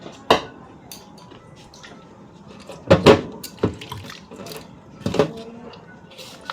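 Water runs from a kitchen tap while a baby bottle is washed with liquid detergent, with sharp clinks and knocks of plastic and dishes at irregular moments over a soft wet background.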